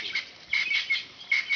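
Birds flutter close by near rhinos in the grass, with three short bursts of flapping wings that are fairly near and separated by brief pauses.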